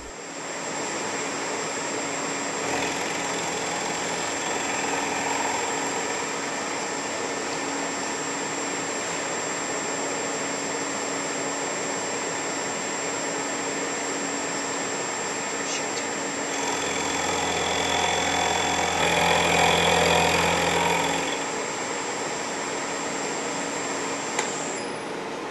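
A milling machine cuts a metal block in a workshop, giving a steady, moderately loud mechanical whine and hum with a high tonal whir, swelling louder for a few seconds near the end.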